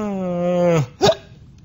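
A voice imitates a hiccup: a sustained voiced tone sliding downward, then cut off by one short, sharp gulping hic, close and fairly loud, with nothing after.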